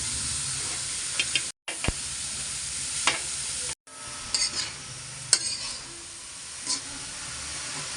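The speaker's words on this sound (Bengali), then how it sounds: "শাক দিয়ে এখন নাড়াচাড়া করতেছি" Leafy greens stirred while frying in a pan, a steady hiss and sizzle with occasional scraping and tapping of the spoon, close by and unaccompanied by speech, broken by two very short gaps.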